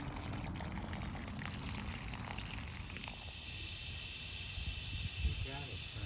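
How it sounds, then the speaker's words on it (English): A garden hose sprays water in a home garden, a steady loud hiss and rush throughout with a slight change in texture partway as the pressure shifts. "you can adjust it, the pressure, by just turning the hose up or down."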